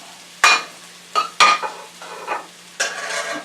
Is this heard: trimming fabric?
no